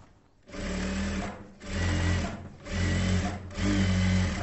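A sewing machine stitches a blouse cross belt piece, running in four short bursts of motor whir with brief pauses between them, close and clear.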